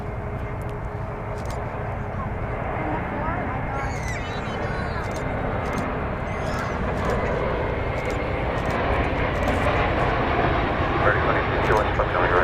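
Airliner arriving at Dallas Fort Worth on a flight from San Diego, a steady continuous engine roar that builds slightly, with someone talking over it and faint chirpy sounds scattered on top.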